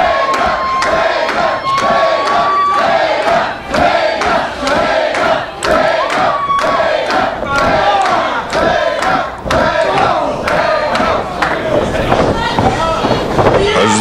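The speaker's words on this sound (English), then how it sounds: "Crowd getting behind Davey Vega." A wrestling crowd at an independent wrestling event cheers and roars continuously and loudly, with chants and shouts rising and falling under a commentator's voice, with occasional sharp whistles.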